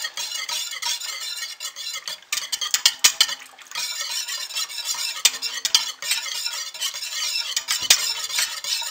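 Soap batter being stirred in a container, a dense run of quick scraping and clinking strokes, close and fairly loud, continuing steadily without speech.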